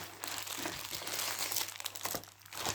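Plastic t-shirt pouches holding stickers are handled and opened close up, with continuous soft crinkling and rustling of thin plastic and a few sharper crackles.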